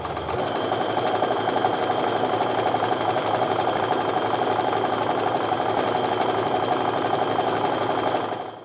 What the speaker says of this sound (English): now I'm just going to sew my 1/4 inch stitch all the way down here